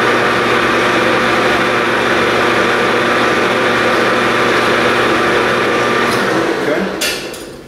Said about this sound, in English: I'm going to spin it in the reverse direction to catch the lead.